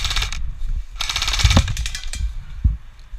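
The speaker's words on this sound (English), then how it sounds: "If he tries to get up, shoot his back plate." An airsoft gun fires at an opponent's back plate in bursts of rapid, close, sharp clicking shots, with short pauses between the volleys.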